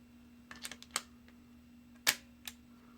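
An Autococker paintball marker's trigger is pulled on the workbench, giving a few quiet close clicks of the mechanism followed by one sharper snap and a light click, over a faint steady hum.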